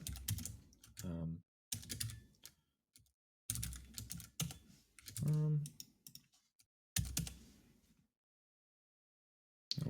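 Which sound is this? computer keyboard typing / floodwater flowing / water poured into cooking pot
computer keyboard typing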